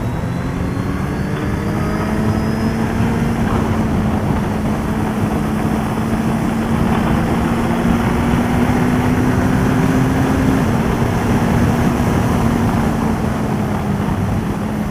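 Motorcycle at speed on the Le Vigeant race track, a steady loud engine drone with tones sliding up and down through gear and throttle changes, plus heavy wind rush throughout.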